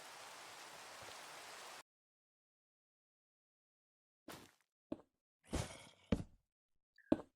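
Steady rain hiss falls inside a zombie survival video game for the first two seconds, loud and even, then cuts off, followed by a few scattered thuds and knocks.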